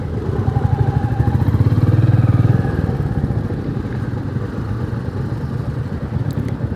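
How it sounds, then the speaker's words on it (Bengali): Several motorcycles idle and rev as riders turn them around while parking on a group ride of twenty-plus bikers to Mayapur; steady, close engine rumble with a swell early on, no talk. "ঘুরিয়ে রাখো, বাইক ঘুরিয়ে রাখো,"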